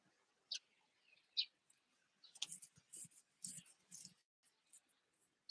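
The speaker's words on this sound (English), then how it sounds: "Some kind of tropical bird." A tropical bird calls near a beach in Krabi: short, high, thin chirps and clicky notes in scattered bursts, faint against a quiet background.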